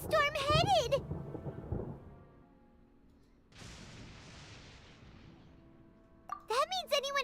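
Thunderstorm in the video game Genshin Impact: after a character voice fades, a broad crash of thunder and rain-like hiss erupts and lingers as a steady storm wash before high-pitched character chatter returns.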